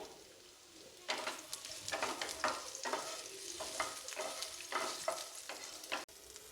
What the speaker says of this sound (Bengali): সবশেষে উচ্চগুলোকে ভেজে নেবো